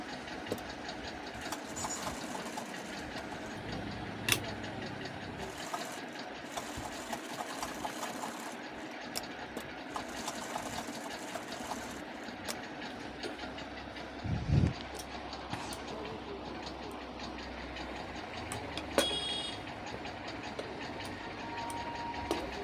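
A sewing machine stitches the back pocket of a pair of pants, a quiet, rapid mechanical chatter that runs in steady bursts, with a few clicks and a short thump partway through.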